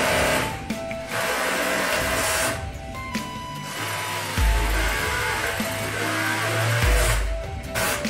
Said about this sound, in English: Then sample is sewn by a hand sewing machine.